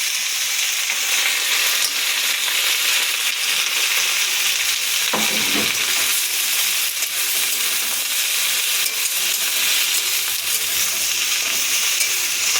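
Pumpkin leaves hit hot oil in a pan and fry with a loud, continuous sizzle and hiss; about midway a brief scrape and clatter of stirring cuts in, then the steady frying carries on alone.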